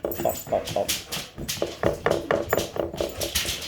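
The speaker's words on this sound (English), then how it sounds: "Who knows what he's barking at?" Small chihuahua yipping repeatedly in the background of a home kitchen, sharp barks in an irregular series under a person talking nearby.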